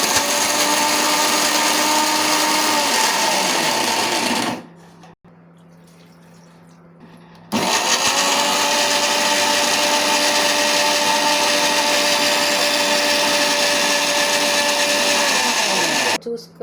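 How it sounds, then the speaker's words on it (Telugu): A kitchen mixer grinder whirs loudly while grinding a spice paste of toor dal, cardamom and tamarind for mutton curry. The steady motor roar runs in two long bursts separated by a brief quiet pause. "కొంచెం కొంచెంగా పోసుకొని గ్రైండ్ చేసుకోవాలి"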